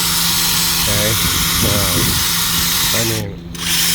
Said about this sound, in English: I use a drill with a wire cup, Harbor Freight again, and I just go up in here and I just clean the crap out of